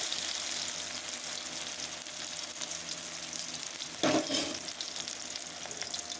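Chopped tomato frying in oil in a pan for a vegetable dal, giving a steady broadband sizzle with brief stirring clatter partway through.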